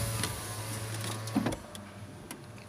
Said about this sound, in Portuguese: Baixar o vidro aqui.